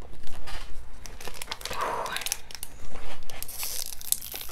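Foil wrappers of Japanese Pokémon card booster packs crinkle and tear close by in several bursts of rustling, with a brief spoken exclamation amid the handling.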